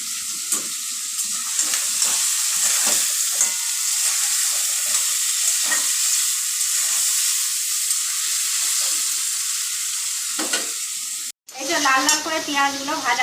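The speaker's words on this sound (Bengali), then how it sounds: "হয়ে গেছে পেঁয়াজ টমেটো ভাজা হয়ে গেছে" Onions and tomatoes fry in a pan for a quick mutton curry. A steady, close sizzle and hiss runs throughout with light scraping and stirring, then it briefly cuts off and a voice speaks at the end.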